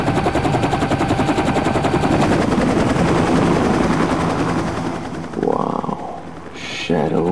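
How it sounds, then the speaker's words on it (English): A helicopter arrives in the video game Devil Inside, its rapid rotor chop thudding loudly and steadily before fading near the end as other effects cut in. "Dave, the chopper's here, over to you."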